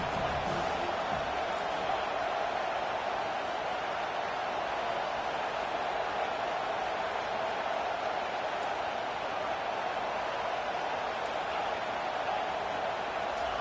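A football stadium crowd cheering during a second-down play, heard as a continuous distant roar of massed voices that holds steady throughout, with no single standout shout.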